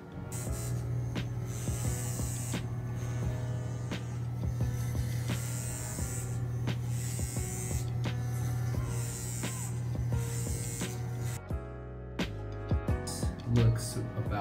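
Electric hair clippers cutting hair for a taper fade, a steady close buzzing hum broken by repeated bursts of brushing and cutting passes, stopping near the end as handling clatter takes over.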